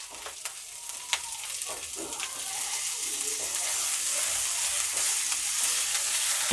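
Garlic paste frying with green chilli in a pan for an eggplant and lentil-dumpling curry, giving a steady sizzle that builds gradually, punctuated by a few sharp clicks and scrapes of stirring.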